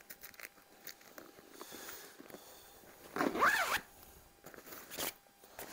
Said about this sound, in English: Let's do the zip up.